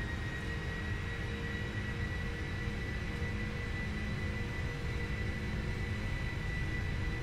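Airliner on its takeoff roll in the Prepar3D flight simulator, a steady, fairly quiet jet engine roar with constant broadband rumble throughout and no talking.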